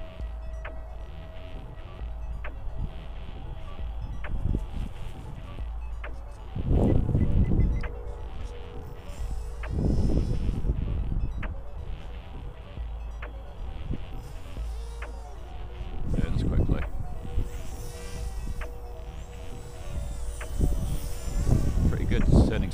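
A Lidl Twin Tail RC aircraft flies on its maiden test flight. Its small electric motor buzzes and whines in repeated surges as the throttle rises and falls, over gusty wind. Someone speaks between the surges.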